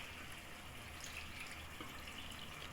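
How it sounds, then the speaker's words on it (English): A little water is poured into a pot of egusi soup, giving a soft, steady gushing hiss with a low rumble, faint and continuous for a few seconds. "So at this point, you can add a little water,"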